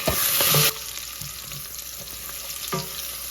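Seasonings sizzle in a hot pan on high heat, a brief loud hiss at the start settling into soft frying crackle with a few stirring clicks, close and without speech.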